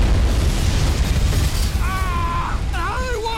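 Deep rumbling movie explosion effect, heavy low booming throughout, with whistling tonal sounds and a voice layered in over the second half.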